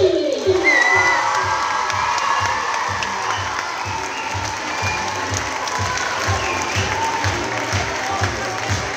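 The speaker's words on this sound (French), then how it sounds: "On peut applaudir le jury." Audience at a dance contest applauding and cheering for the jury, loud sustained clapping with shouts and whoops, some children's voices, and a rhythmic music beat underneath.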